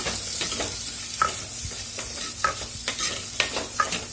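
Chopped onions sizzle steadily in a hot pan for tomato kadaisal while a utensil scrapes and stirs in repeated short strokes, close and fairly loud, with no talking.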